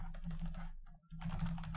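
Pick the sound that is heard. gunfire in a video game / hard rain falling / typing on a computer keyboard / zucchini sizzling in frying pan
typing on a computer keyboard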